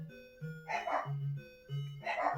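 Dogs barking next door in two bursts of rough, mid-range barks, fairly near, with a steady tonal hum running underneath.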